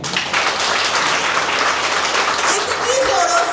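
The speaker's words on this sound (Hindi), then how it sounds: "एंड खुद के लिए बड़े जोरों से ताली बजाएंगे" An audience at a get-together claps loudly for themselves, producing a dense, continuous roar of applause with voices mixed in underneath.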